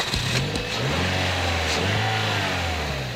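A Toyota Yaris hatchback with its 1.5-liter 1NZFE twin-cam 16-valve engine drives along with a steady, close engine drone and a low hum that rises slightly in pitch.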